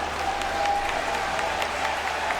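Stadium crowd at a football match applauding steadily, a dense wash of clapping with occasional sharper claps, sustained and moderately distant throughout.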